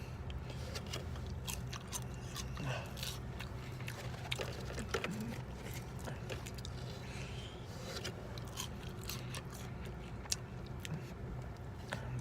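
Someone eats Popeyes Cajun fries dipped in ranch sauce, making quiet, close bites and soft, moist chewing sounds with faint scraping against a low, steady background hum.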